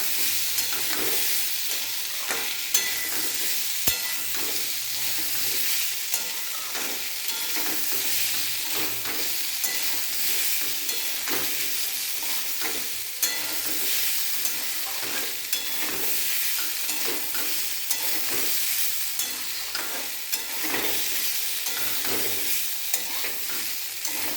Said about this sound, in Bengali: এবার দেখুন অনেকটাই ভাজা হয়ে গিয়েছে, আর একটু নাড়াচাড়া করব।